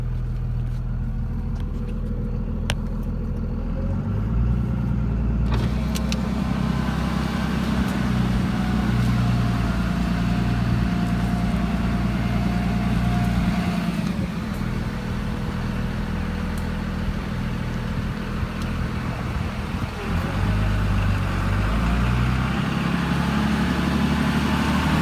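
A car drives along a road, giving a continuous low engine hum and road rumble that stays steady throughout, with small shifts in tone as it travels, close and alone without talk.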